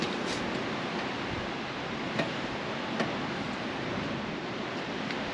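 Steady, loud wind rushes outdoors as a broad continuous roar, with a couple of faint clicks and no voices.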